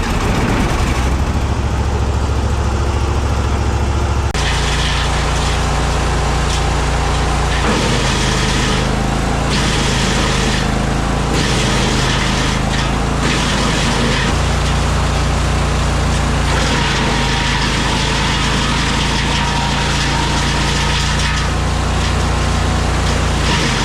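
Echo 2511 TES top-handle chainsaw started and running outdoors during fruit-tree felling, a steady loud engine drone lasting throughout with shifts in pitch as the throttle changes, no voices over it.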